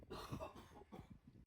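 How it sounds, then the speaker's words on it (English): A single person's cough with some throat clearing, close and fairly soft, heard alone without talk. "I need to go and cough"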